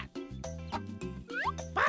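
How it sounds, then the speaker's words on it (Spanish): Duck quacks over a children's song about animal names, with bouncy backing music and playful voices running through the short stretch. "¡Pato! ¡Pato!"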